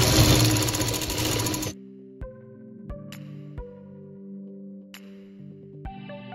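A sewing machine stitches a folded fabric hem on a baby bonnet in a loud, dense, continuous burst lasting under two seconds, followed by quieter scattered tones and clicks.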